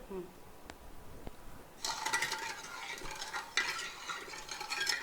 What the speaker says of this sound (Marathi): आमी एक दवल घेवन फिरोवन घेवे